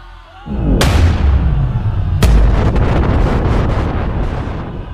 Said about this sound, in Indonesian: Namun begitu kaki Aris menyentuh tanah di depan mereka, tanah meledak.